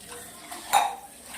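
Dishes and tumblers are washed in a kitchen sink, with soft handling noises and one sharp, close clink of metal or glass against another piece, with no talking.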